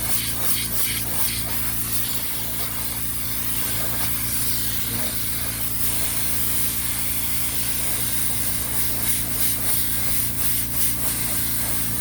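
A steady, loud hiss of compressed air blasting through a spray nozzle fitted to a coin-operated tire inflation blower, continuous throughout with a constant low machine hum underneath.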